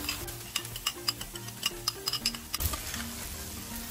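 Masala fries in oil for mutton tawa kata kat while curd is stirred in. A spoon taps and scrapes the pan in quick repeated strokes over a low sizzle, close up, followed by a louder hiss near the end, with no speech.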